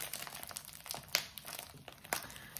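A parcel covered in tape is unboxed, its packaging crinkling and crackling in soft, irregular bursts with a few sharper rips, quiet and close by.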